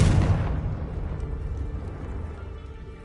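Confringo spell in Hogwarts Legacy, a single loud fiery blast at the start that rolls off into a fading rumble.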